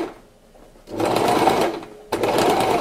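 An electric sewing machine stitches fabric for shorts in two loud, steady whirring runs, with a short pause between them after a quiet start.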